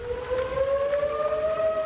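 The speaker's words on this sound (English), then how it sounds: "Sirens blaring before dawn in North Texas." A civil defense siren in North Texas wails continuously before dawn during a severe weather outbreak, its steady rising tone droning loudly through the whole stretch with no voices.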